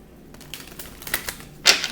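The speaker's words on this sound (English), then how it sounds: "I'm going to shuffle the cards." A deck of tarot cards is shuffled up close, a rapid series of crisp clicks and flutters that builds to a louder riffle near the end.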